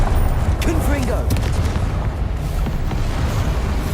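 A Confringo spell explosion in the Hogwarts Legacy video game bursts as a loud, booming blast over dense, continuous game noise, with a voice briefly audible near the start.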